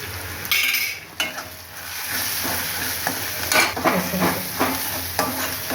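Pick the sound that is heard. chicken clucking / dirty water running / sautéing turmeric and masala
sautéing turmeric and masala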